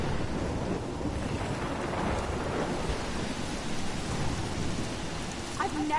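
A steady wash of heavy rain fills a thunderstorm scene in the video game Life Is Strange, with a low rumbling swell near two seconds suggesting distant thunder, constant and fairly loud throughout with no clear talk.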